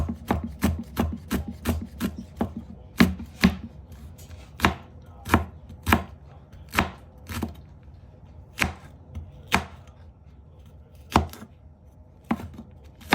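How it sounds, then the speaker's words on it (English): Okra being chopped with a knife on a cutting board: crisp, sharp knife strikes, quick and clustered at first, then spaced out with irregular pauses, close and clear with no talking. "To chop okra, just very easy to do."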